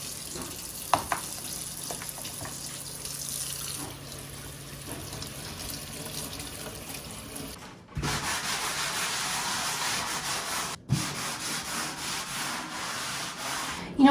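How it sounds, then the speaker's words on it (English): Scrubbing inside a house closet with a damp Scrub Daddy sponge and cleaning paste, a steady near rubbing scrape that runs throughout, turning louder and rougher in the second half with a couple of brief pauses. "So basically you wet the sponge, wet the paste, and you scrub, scrub, scrub away."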